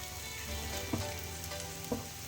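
Garlic cloves and chopped onion sautéing in a pan give a soft, steady sizzle, quiet and even, with a couple of faint knocks from stirring and no talking.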